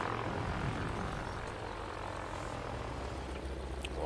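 Propeller plane engine droning in World of Warplanes, a steady close roar held throughout the flight with a faint higher whine near the end.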